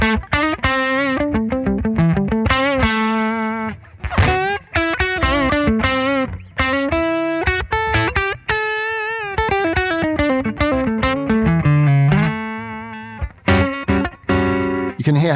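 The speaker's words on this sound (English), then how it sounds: "So this one is like a Fender amp with a tube screamer on it." Overdriven electric guitar through a Blackstar Beam Mini amp set like a Fender with a Tube Screamer, playing a busy melodic line, gritty and sustained with dense harmonics, loud and continuous with no talking.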